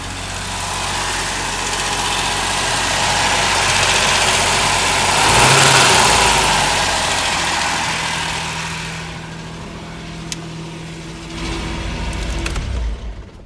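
A Ford Sierra Estate Mk1 4x4 Ghia with a 2.8i engine, run with no coolant in it, idles loudly with a steady low rumble that swells slightly midway. The engine then cuts out, leaving quieter clicks and clunks.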